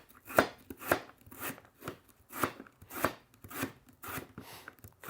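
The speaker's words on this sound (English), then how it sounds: "cut that up into like little apple slices" Knife slicing through an apple into small slices on a cutting board, about ten evenly spaced crisp cutting strokes with a steady chopping rhythm, close and moderately loud with no talking.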